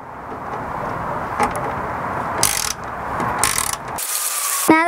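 Close, loud ratcheting of a 10mm socket wrench loosening bolts on a 2016-or-later Toyota Tacoma, in several quick bursts of clicking separated by short pauses, ending in a rapid run of clicks, with no talk.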